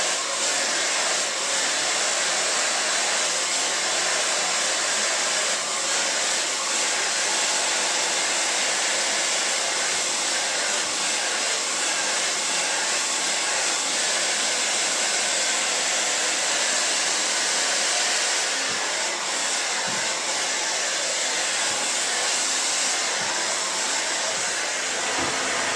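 A hair dryer blows continuously and loudly while hair is styled with a round brush, a steady airy roar with slight wavering across the whole stretch.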